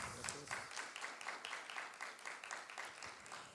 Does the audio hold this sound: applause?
yes